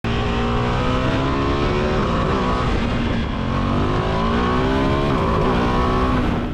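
A loud motorcycle engine revs steadily, pitch climbing and dropping with each gear change, continuous and close with no voices.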